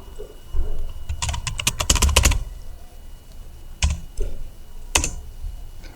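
Keystrokes on a computer keyboard come in a quick burst of clustered clicks, then two separate single taps after a pause, close and fairly crisp, with no one talking.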